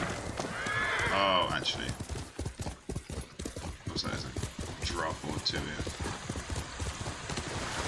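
Horse in the Ghost of Tsushima video game, with rhythmic hoof clip-clops and a loud whinnying neigh early on, while someone talks over it.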